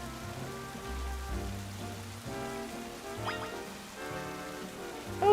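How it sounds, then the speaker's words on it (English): Rain falls steadily in the Pokemon Legends: Z-A game world, a soft continuous patter beneath layered game music with a chime-like tone rising midway. "And now it is raining, I suppose."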